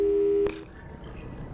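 A telephone busy signal from the video game Portal sounds as a steady, clear electronic tone for about half a second, then cuts off abruptly, leaving a faint low background.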